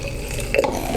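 Cleansing water poured from a bottle into a small container, a brief soft liquid splash in a quiet room.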